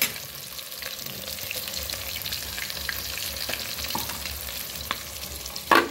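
Flour-coated mandi fish fries in a pan with a steady crackling sizzle throughout, marked by occasional sharper pops and a louder burst near the end.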